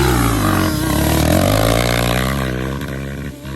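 Two-stroke ATV engine revved hard toward redline, a loud, close, raspy roar climbing in pitch and holding before breaking up and dropping off, running alone without talk.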